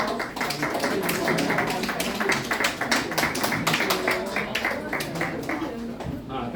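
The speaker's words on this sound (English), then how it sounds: "Please give him a round of applause." Audience applause at a fundraiser brunch as a guest is introduced on stage, a dense steady patter of many hands clapping nearby, continuing for several seconds before fading slightly at the end.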